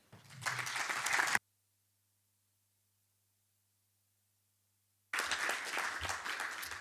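Audience applause after a talk, two bursts of clapping of moderate loudness separated by several seconds of near silence, the first brief and the second continuing to the end.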